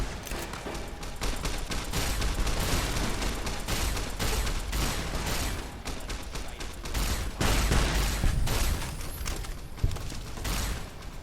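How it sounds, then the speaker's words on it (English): Gunfire crackles in a big firefight between NCR troops and Fiends in Fallout: New Vegas, with dense bursts of rifle and automatic shots, some sharp close reports among a steady distant clatter. "we've got a big firefight here. The NCR and the Fiends"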